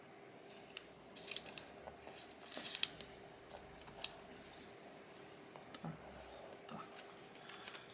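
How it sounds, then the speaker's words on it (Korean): A sheet of colored paper being folded in half and creased by hand: faint, quiet rustling with a few sharp, crisp crackles and taps scattered through an otherwise hushed room. "중간을 중심으로 또 반을 양쪽에서 접어줍니다. 반을 접어줍니다."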